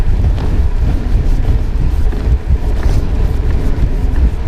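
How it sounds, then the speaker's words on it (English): Steady low rumbling buffeting of wind against a microphone on a bicycle training ride, loud and continuous throughout with no voices. "Windy."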